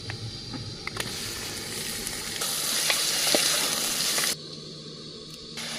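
Chicken pieces drop into a pan of sizzling cumin and ginger-garlic paste, the frying hiss swelling louder and steadier before cutting back to a quieter sizzle near the end, with occasional stirring clinks and no talk.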